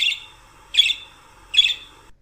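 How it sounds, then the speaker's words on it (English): A wild parrot gives three evenly spaced, harsh, bright calls, each a short squawking burst with a brief tail, clear and close against a quiet background. "In the wild, a parrot may make sounds like this."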